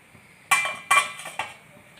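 A plate set down as a lid over a pot of pulao gives three sharp clinks of ceramic against metal, close by, each ringing briefly before fading into quiet.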